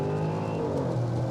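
A Jaguar F-Pace SVR SUV launches hard from a brake-boosted standstill, its engine note a loud, steady, close-up roar that holds strong without a break as the car pulls.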